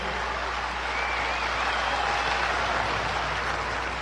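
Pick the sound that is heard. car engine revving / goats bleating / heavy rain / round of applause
round of applause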